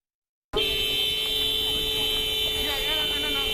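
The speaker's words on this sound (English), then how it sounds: "That vehicle right there is honking and impeding our investigations" A car horn honks steadily at a street scene where officers are trying to make an arrest, a continuous blaring tone that starts abruptly and holds loud for about three seconds.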